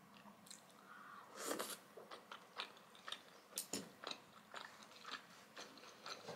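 Close, quiet bites and chewing of Korean spicy rice cakes and fried dumplings, soft crunches and moist mouth clicks spaced irregularly, with no talk.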